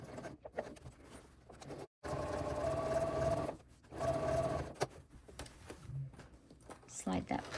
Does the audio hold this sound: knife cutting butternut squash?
no